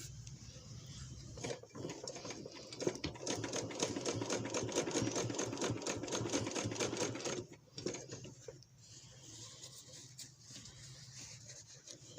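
A sewing machine stitches a zipper into trousers in a quick, even run lasting several seconds, pausing briefly before a shorter burst; soft and close.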